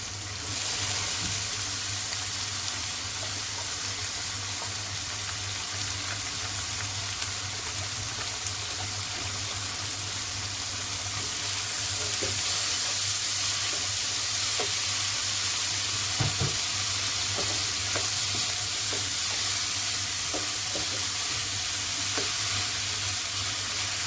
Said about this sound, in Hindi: अब इसमें मैं दाल ऐड कर दूँगी।